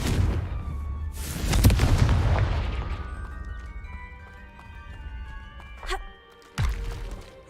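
A Confringo explosive spell blast in a Harry Potter video game bursts with a loud boom and a long, decaying rumble, followed by a couple of sharper impact hits a few seconds later.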